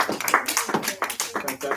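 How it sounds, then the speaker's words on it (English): Classroom clapping for a student who shared their writing, a short burst of quick overlapping claps close by, mixed with the teacher's voice talking. "Let's give them a clap,"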